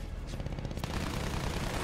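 Aircraft machine gun in the Battlefield 1 game fires in a dense, sustained rattle of rapid shots that stays steady and loud throughout, with no voices.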